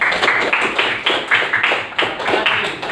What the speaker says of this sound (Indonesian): Nah, tepuk tangan untuk Dinda.